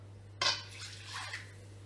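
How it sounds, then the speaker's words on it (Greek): Water poured into a bowl of leftover marinade while making Greek lemon chicken with potatoes, a short splashing burst followed by a softer trickle, close and fairly quiet over a steady low hum. "Τώρα, ρίχνω το νερό μέσα"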